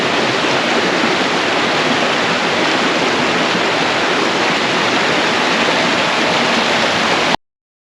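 A creek rushes steadily and loudly nearby, a dense, unbroken wash of flowing water that holds even for several seconds before cutting off abruptly.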